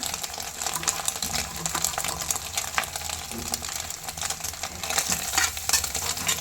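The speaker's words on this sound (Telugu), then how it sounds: "ప్రస్తుతానికైతే నేను క్యాబేజీ వేస్తున్నానండి" Shredded cabbage stir-fried in a hot pan for egg fried rice, a continuous bright sizzle with repeated scraping stirs, close and steady throughout, no talking.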